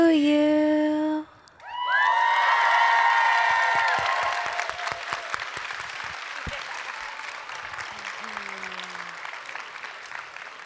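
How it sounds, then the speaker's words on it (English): A crowd at a Comic-Con Liverpool Q&A bursts into loud, sustained applause with cheers and whoops for a birthday girl, right after a sung birthday tune, then the clapping slowly thins while the room stays lively. "Round of applause for Jess, the birthday girl"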